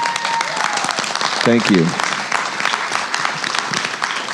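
Live podcast audience applauding steadily throughout, with a brief spoken thanks over the clapping.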